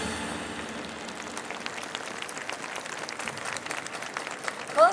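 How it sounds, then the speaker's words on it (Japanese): An outdoor festival audience applauds after a yosakoi dance performance at a Japanese hometown festival in Tokyo, a steady dense patter of clapping throughout with a brief louder burst at the very end. "今一度大きな拍手をお願いいたします。"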